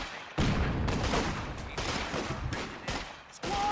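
Bursts of small arms gunfire from a tabletop-style war video game, loud and close, coming in rapid rattling volleys with short gaps between them.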